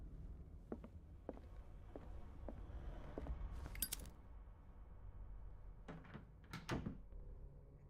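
In a horror video game, a locked door is rattled and knocked, giving a series of sharp wooden clacks and jolts, irregular and close, with a brief metallic burst midway and no talking.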